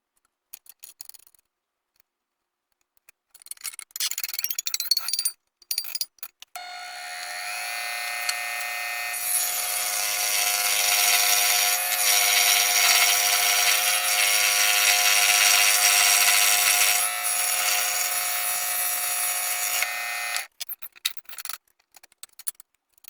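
A scroll saw cuts wood in a sustained, loud buzzing run of about eleven seconds, with a lower blade clamp being tested during the cut. Short mechanical clicks and handling noises come before and after, and no one speaks.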